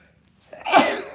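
A single loud, close sneeze with a breathy build-up and a sharp burst at the end, no talking.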